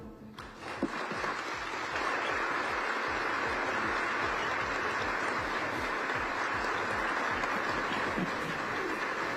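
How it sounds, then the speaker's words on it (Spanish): Sustained applause from a crowd, steady and full throughout, with a few louder claps near the start. "El aplauso de sus funcionarios."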